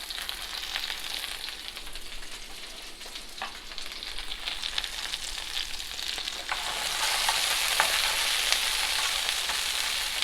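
White mushrooms, white onion and green sweet peas stir-fried in a pan give off a dense, continuous sizzle with scattered stirring clicks, swelling noticeably louder partway through.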